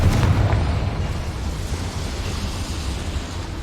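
A Confringo blasting spell explodes in Hogwarts Legacy inside a small mine, a heavy booming blast that starts loud and settles into a continuous low rumble.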